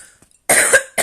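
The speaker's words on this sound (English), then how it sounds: "the reason why I believe I'm coughing so much as well" Two harsh coughs from one person, close and loud, the first a longer burst and the second cut short, with a moment of near silence before them.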